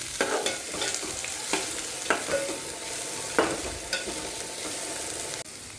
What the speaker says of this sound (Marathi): लसूण, त्यानंतर सगळ्या भाज्या टाकणार आहोत. थोडंसं फ्राय करून घेऊया आपण.